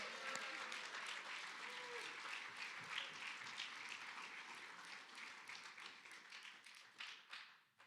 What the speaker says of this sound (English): Big round of applause for Jennifer